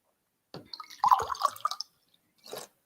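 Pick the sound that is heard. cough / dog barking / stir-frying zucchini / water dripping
water dripping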